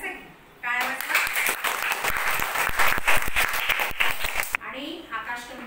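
A children's day prize-giving audience breaks into dense applause for a second-prize winner, a burst of many hands clapping for about four seconds before fading back to a speaking voice.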